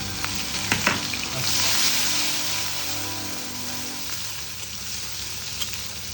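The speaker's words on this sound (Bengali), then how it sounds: "পেঁয়াজটা এবার একটু ভাজা হচ্ছে।" Onions sizzle and fry in hot oil, a steady close crackling hiss with a few sharp clinks of a utensil early on.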